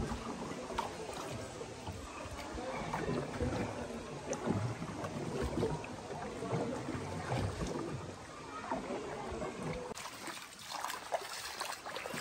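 A boat moves across water at Ayongs Adventure Park toward the falls, with steady splashing and trickling water close by and a low rumble running throughout.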